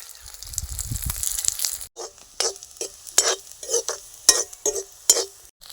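Onions frying in hot oil in a kadhai, a sizzle with repeated spoon stirs and metal scrapes against the pan in uneven bursts, close and moderately loud.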